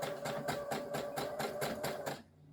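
Sewing machine stitching a tote bag seam and back tacking, a steady rapid needle chatter pulsing in even beats for about two seconds before stopping abruptly, close and alone.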